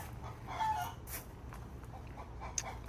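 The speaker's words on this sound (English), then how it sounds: "So you hear the chickens going at it." Chickens cluck on and off at a moderate distance, with soft scattered calls over a quiet outdoor background.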